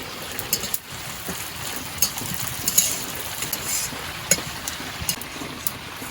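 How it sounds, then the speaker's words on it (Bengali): Whole cumin, coriander seeds, a torn bay leaf and panch phoron frying in hot oil: a steady close sizzle broken by scattered sharp crackles and pops. "গোটা জিরে, গোটা ধনে আর একটা তেজপাতা ছিঁড়ে দিয়েছে, আর 5 ফোড়ন দিয়ে দিয়েছে। তো এইগুলো এবার ভেজে নিবে।"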